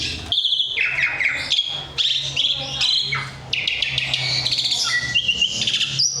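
Loud, close birdsong fills the air in Indonesia, with many overlapping chirps and rapid trills in quick succession over a low background hum.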